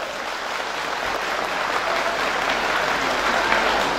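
Warm, continuous applause from an audience for the performing artists at a Yörük folk gathering, building slightly in strength over a few seconds with no voices heard.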